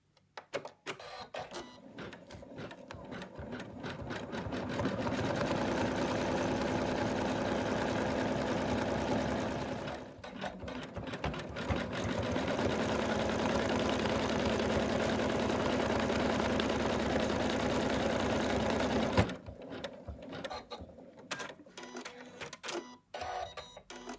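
An embroidery machine stitches fabric onto an in-the-hoop Santa design, running as a loud, steady mechanical whir with a rapid needle rhythm for two long stretches, broken by a short pause and followed by scattered clicks.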